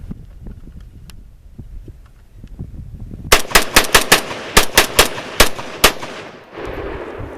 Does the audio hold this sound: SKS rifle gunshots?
yes